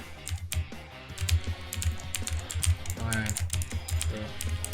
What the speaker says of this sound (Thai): เสียงคีย์บอร์ดกูว่าดังเหมือนเดิม